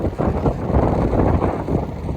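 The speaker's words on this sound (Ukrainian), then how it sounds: "зараз трошки вітер почав задувати" Wind buffets the microphone while riding a gravel bike on a foggy autumn 200 km brevet, a close, continuous low rumble and roar with no talking.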